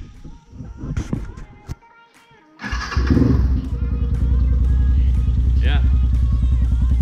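TownTown TBR7 Chinese dual sport motorcycle with a performance camshaft, heard first through a few brief cranking and clattering sounds, then catching and settling into a loud, steady, close idle rumble.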